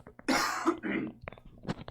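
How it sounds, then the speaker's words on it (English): A man with a lingering cough, working on a live build of ESC and motors, coughs twice in quick succession, loud and close, then clears his throat with a few softer rasping catches. "still got a little bit of a cough I'm working through"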